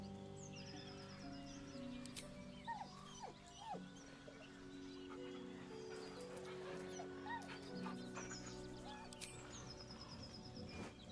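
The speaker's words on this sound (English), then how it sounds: "With a deep, heartbroken whine, the dog bows his head." A dog whines softly in the fantasy game Baldur's Gate 3, low mournful whimpers set over a steady ambient game soundtrack with faint bird chirps.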